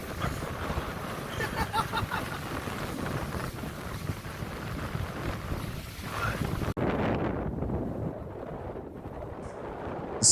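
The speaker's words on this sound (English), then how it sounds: "that turned out to be more like 20 to 25 knots of wind with 6 to 7 foot swells" Strong wind of 20 to 25 knots buffeting a sailboat at sea in 6 to 7 foot swells, a loud constant roar and rumble of gusts against the microphone, easing slightly near the end.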